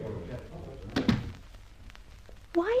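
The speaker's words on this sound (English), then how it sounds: "Barbara, shut the door." A door being shut as a radio drama sound effect, one firm close thunk in the middle of the clip, with a voice heard briefly at the end.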